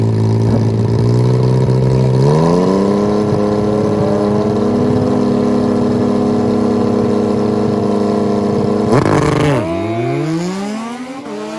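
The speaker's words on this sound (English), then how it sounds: "why don't we see any Yamaha drag bikes? Here's one." A Yamaha two-stroke drag bike on nitrous screams at full throttle, a loud sustained high-revving engine note that climbs through gear changes before a sharp shift and a falling, fading wail at the end.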